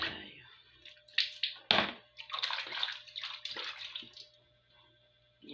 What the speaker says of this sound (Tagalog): Iipon tayo ng tubig para hindi na ako mamaya mag-igip